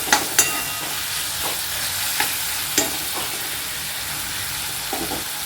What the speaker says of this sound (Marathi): टोमॅटो छान मऊशी शिजेपर्यंत आपण याला छान परतून घेऊयात